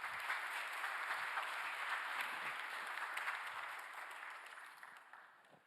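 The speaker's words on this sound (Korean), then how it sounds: "다시 한번 박수 부탁드립니다." An audience at a national policy planning committee's public report event applauds with dense, even clapping that holds steady and then gradually fades toward the end, fairly quiet and without voices over it.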